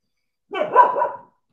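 A dog indoors gives one short, close, loud growling bark at someone in the corridor, with silence before and after.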